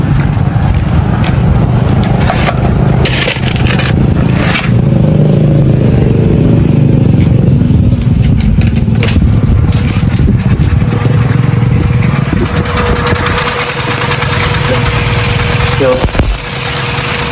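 A belt-type pressure washer with a soap foaming injector runs loud and close. Its engine rumbles steadily with some clatter while voices talk over it.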